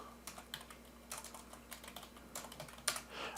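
Keys clack on a computer keyboard as a username and credentials are entered, with quiet, close, irregular taps arriving in short clusters with brief pauses in between.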